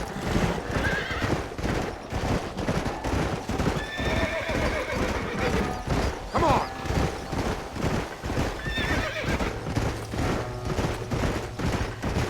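Horses neigh and whinny over steady clip-clopping hooves in the video game Red Dead Redemption on Xbox One, with busy game-like background sounds and occasional faint voices throughout.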